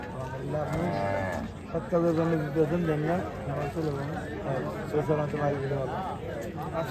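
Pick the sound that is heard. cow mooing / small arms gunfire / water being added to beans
cow mooing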